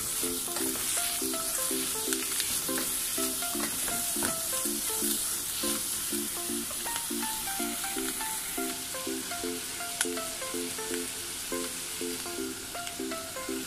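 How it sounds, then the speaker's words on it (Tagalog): Ingredients sautéing in a pan for chicken pulao give a steady, close sizzle and frying hiss that runs throughout, with faint stirring clicks and a repeating musical pattern underneath. "Sautayin lang natin."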